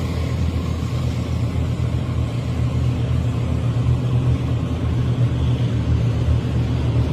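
Military tanks on the move, a constant deep engine rumble with heavy low-end drone, steady and fairly loud without talk.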